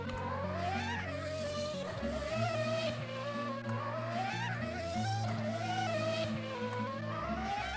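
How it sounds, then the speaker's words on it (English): A race car engine in the Reksio and the UFO video game whines steadily, its pitch climbing and dropping again and again as gears shift, blended with continuous game sound at a moderate level. "I actually hear the sounds of gear switching"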